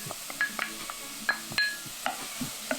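Carrots and celery sizzle in a pan while being stirred, with scraping utensil strokes, sharp metallic clinks and a soft frying hiss in close, irregular bursts.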